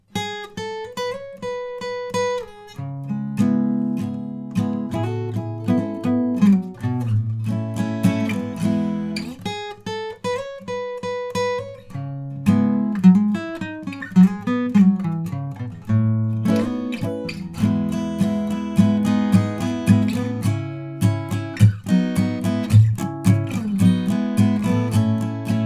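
Acoustic guitar plays a song's solo and instrumental with lead-in notes: sustained single notes and bends over strummed chords, then busier runs, steady and close, with no talking.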